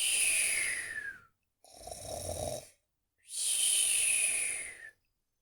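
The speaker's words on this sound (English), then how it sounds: "fell asleep and began snoring" Three loud, drawn-out snores in a slow rhythm, whistling inhales alternating with a rumbling breath, separated by brief silences.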